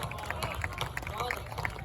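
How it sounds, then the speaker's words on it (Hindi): Audience at a Hindi kavi sammelan poetry gathering clapping in a light, uneven patter of applause, moderately close, with murmuring voices underneath. "इतनी कमजोर तालियों के लिए आप सभी का बहुत बहुत आभार।"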